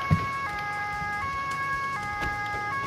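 Police car siren in the Autobahn-Polizei Simulator 2 video game, a steady multi-tone wail sounding continuously and fairly loud on its own, with a few faint thumps and engine noise underneath.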